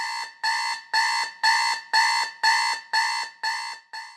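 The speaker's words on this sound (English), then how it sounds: "It was a really annoying alarm." A retro electronic alarm clock sounds a loud, harsh buzzing beep, repeating in evenly spaced pulses about twice per second without pause.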